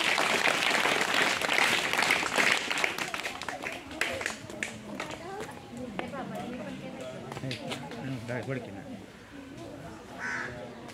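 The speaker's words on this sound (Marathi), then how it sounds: "तर मॅडम साठी टाळ्या वाजवा सगळ्यांनी." A classroom of schoolchildren claps for their teacher at a village primary school, a dense burst of applause that thins out over several seconds while voices and chatter rise underneath.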